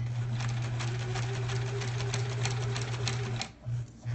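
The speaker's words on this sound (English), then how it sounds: "And I'm gonna back tack again, just because I've been doing it the whole time." A sewing machine stitching a quilt block seam with back tacking, a steady close mechanical hum with rapid needle clatter that runs several seconds, then pauses briefly and restarts.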